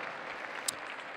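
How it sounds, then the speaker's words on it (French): Crowd applause at a show jumping event at Saut Hermès, fairly faint and distant steady clapping from the stands, with one brief sharp click partway through. "ça mérite un petit peu plus de chaleur dans vos applaudissements"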